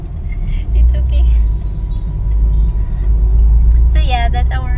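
A car's engine drones low and steady from inside the cabin while it drives along, with road rumble throughout and people talking over it.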